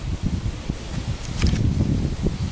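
Wind gusts through an outdoor ravine, buffeting the microphone with a low, uneven rumble and faint rustling that rises and falls throughout, with no one speaking.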